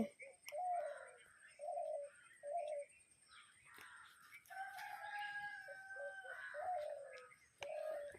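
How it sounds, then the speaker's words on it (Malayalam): A pigeon coos repeatedly in short, soft phrases, with another bird's longer call in the middle; distant and quiet, no talking. "അവിടുന്ന് പ്രാവിൻ്റെ ഒച്ചയും കേൾക്കുന്നുണ്ട്"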